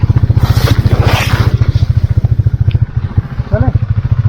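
A motorcycle engine idles and pulls away with a steady, rapid low thumping pulse, loud and close, as a ride sets off on the roads of Spiti; voices are briefly heard over it.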